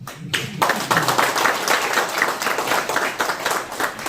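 Audience applause at a Korean lawmaker's parliamentary report meeting in Gumi: dense, sustained clapping from a crowd after a brief quiet start, steady and fairly loud throughout.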